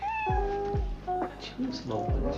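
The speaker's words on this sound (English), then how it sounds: "The cat? Maggie's pride and joy." A pet cat meows several times in short, clear calls, with people talking over and between the meows in a domestic comedy scene.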